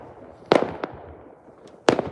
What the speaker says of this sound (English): there's fireworks going off behind me right now